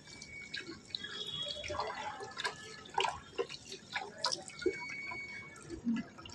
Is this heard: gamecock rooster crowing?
no